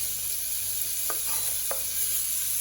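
Onions cooking with sardines in a pan give off a steady, soft sizzle, with two brief scraping stirs partway through.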